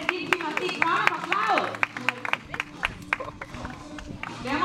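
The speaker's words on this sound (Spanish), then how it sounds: "¡Demos un fuerte aplauso!" An audience at a seal show in Chankanaab Park, Cozumel, claps and cheers under a host's loud announcing voice, scattered hand claps rising and falling in short bursts.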